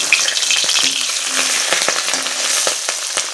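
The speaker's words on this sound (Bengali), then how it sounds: "তো মাছগুলো এখন ভাজা করে নেব সুন্দর করে" Pabda fish frying in hot oil in a pan: a constant crackling sizzle punctuated by sharp clicks and scrapes as the pieces are turned, close and with no talk.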